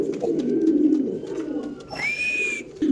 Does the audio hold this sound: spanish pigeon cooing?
yes